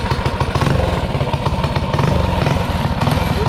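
Motorcycle fitted with a 22mm Mikuni carburetor, its engine running loud and close with a steady, throbbing putter and slight clattering, no talk over it.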